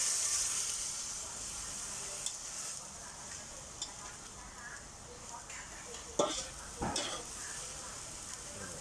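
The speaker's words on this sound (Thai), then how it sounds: "แล้วก็ผัดให้เข้าเนื้อ ผัดให้ถูกว่าสุกนิดหน่อยนะ" Bean sprouts stir-fry with minced pork in a pan, giving a quiet, even hiss with occasional soft scrapes and a couple of brighter clinks toward the end.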